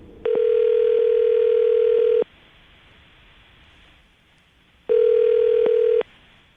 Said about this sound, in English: I'm going to dial this phone number right now, okay?